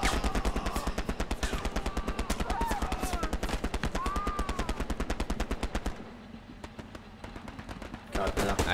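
Rapid sustained machine gun fire in the World War II shooter Hell Let Loose, loud and close, with a fast even rhythm of shots that briefly drops to scattered distant bursts before resuming, while players talk over it.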